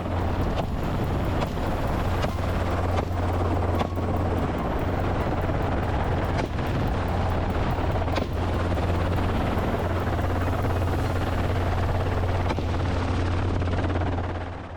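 Helicopter flying steadily overhead during a wild boar hunt in Spain, its rotor drone loud and continuous throughout with gusty wind buffeting the microphone.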